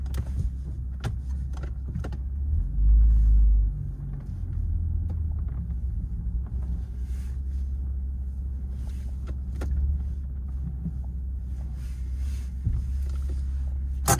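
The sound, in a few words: BMW M140i 3.0 340hp engine during test drive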